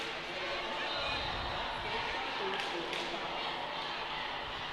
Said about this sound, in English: Crowd is absolutely electric here at the Rainy City Roller Derby track